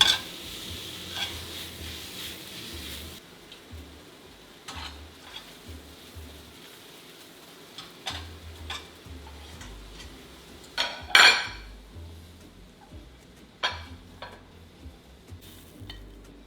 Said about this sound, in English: now fun part, we're gonna stir fry everything